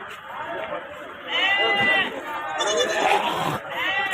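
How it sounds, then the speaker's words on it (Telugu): Goats bleat repeatedly at a busy ram and goat market in Jammalamadugu, with loud overlapping calls rising over a steady crowd murmur and nearby voices. "మేకలు ఉన్నాయి."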